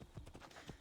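Horse hooves clip-clop at a steady trot in the Assassin's Creed Odyssey video game, quiet and rhythmic beneath a faint game backdrop.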